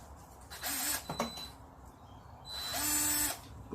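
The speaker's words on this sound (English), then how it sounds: "I'm using a metal drill to drill holes in wood." A metal drill bores holes in wood for a homemade scrunchie stand, making two whining bursts of about a second each with short pitch shifts as the bit bites, fairly close and quiet.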